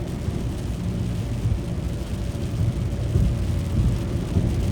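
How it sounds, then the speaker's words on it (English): Heavy rain and rolling thunder of a thunderstorm heard from inside a moving car, a dense, steady low roar with louder swells toward the end, no talking. "When I literally drive in the middle of a thunderstorm, I pray to God that I won't die."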